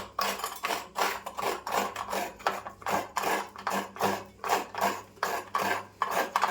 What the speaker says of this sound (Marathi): मी 1 वाटी खोबरं घेतलं आहे, म्हणजे अर्धा नारळ आहे, त्यातला मी 1 वाटी किसून घेणार आहे